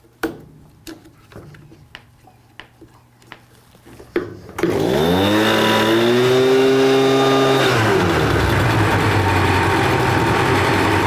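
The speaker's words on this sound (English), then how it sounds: "With the new carburetor installed, now I can try to start the engine and make sure that it runs." A leaf blower with a newly replaced carburetor is pulled over with a few sharp cord tugs, then catches and runs loud and steady. Its engine pitch rises, holds high, then eases slightly lower.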